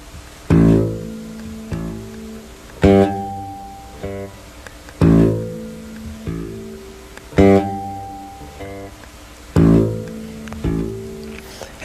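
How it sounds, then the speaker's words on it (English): A bass guitar plays a repeating figure, alternating hard-struck loud notes with softer ones in a steady rhythm, each accented note decaying before the next phrase; close and clear with no talk. "Alternate loud and soft at first."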